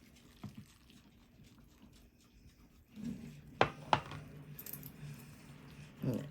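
Piping-hot liquid for chocolate eclairs is poured in an RV kitchen, giving a short liquid splash with a couple of sharp clinks against the container. The sounds are close, over a quiet background.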